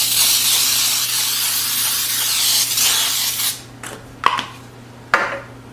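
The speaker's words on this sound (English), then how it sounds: "I'm just going to spray it with the Pam baking spray." Pam baking spray sprayed onto a metal baking sheet, a loud, close, continuous hiss lasting several seconds, followed by a few sharp clatters of the pan.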